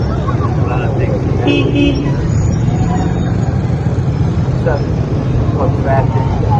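Busy street traffic in Islamabad with a steady roadway rumble and several short car horn toots scattered throughout, heard alongside background voices.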